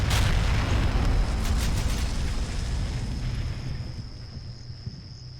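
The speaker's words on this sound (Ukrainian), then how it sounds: "Попадання по нашому танку." In Combat Mission Shock Force 2, a shell strikes a tank during a Challenger 2 versus T-72 fight, hitting with a sharp, loud blast at once and then fading into a long rumbling decay over a low engine hum.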